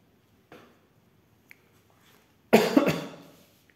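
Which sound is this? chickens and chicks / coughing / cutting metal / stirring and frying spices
coughing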